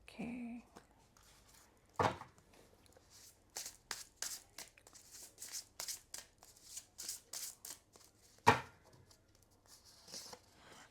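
Tarot cards are shuffled and drawn in a quiet room: a rapid series of soft riffling flicks and snaps, with a couple of louder slaps, close and gentle with faint speech at the start.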